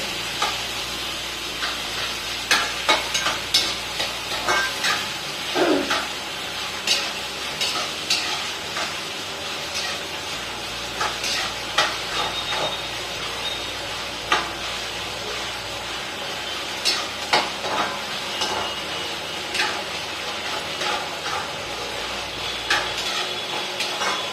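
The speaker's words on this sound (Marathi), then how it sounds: "टोमॅटो टाकायचं तर हे छान असं परतू द्यायचं" Chopped tomatoes sauté in hot oil in a pan for a large veg dum biryani, a soft steady sizzle broken by frequent scraping stirs and light clicks of the spoon against the pan.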